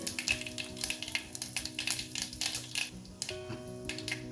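A tempering of mustard seeds, cumin, Byadgi chillies and curry leaves sizzling in oil after a pinch of asafoetida goes in, steady close crackle with sharp pops and a few pan clinks, no talking.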